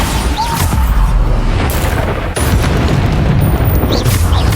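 Bombarda spell blasts in the PC game Hogwarts Legacy (2023), a dense, loud, continuous roar of booming explosions with barely any pause.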